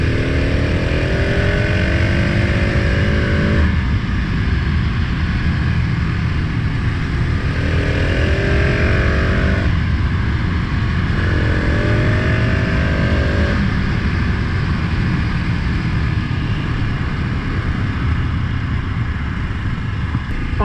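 A 2020 KTM 690 SMC R single-cylinder motorcycle is ridden with a steady, loud engine drone and several rising gear-by-gear revving sweeps that climb and then drop with each shift, heard close up under rushing wind.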